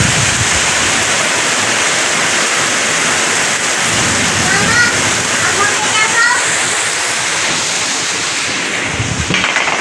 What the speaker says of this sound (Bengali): ভালো বৃষ্টি হচ্ছে একদম মুসুল ধারায় যাকে বলে